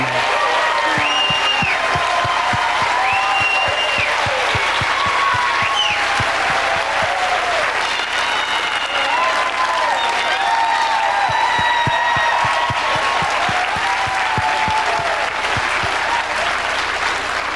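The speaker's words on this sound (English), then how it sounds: "Let's give them a rousing and gracious applause, for without their work, our work would not happen." A large awards-ceremony audience claps loudly and continuously for the stage managers and crew, a dense sustained wall of applause with some crowd noise and a few voices rising over it.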